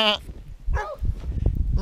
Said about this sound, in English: There's goats in there